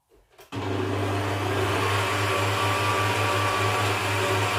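An electric mixer whirs steadily through cookie dough for vanilla and cherry cookies, switching on abruptly after a brief quiet moment and then running loud and continuous with a constant motor hum.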